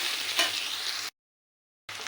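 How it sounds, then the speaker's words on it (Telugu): Onions frying in a pan with cumin seeds and curry leaves for an egg and drumstick curry give a steady, close sizzle that runs for about a second, cuts to silence, then returns briefly. "ఇదండి ఉల్లిపాయలు వేగిపోయింది."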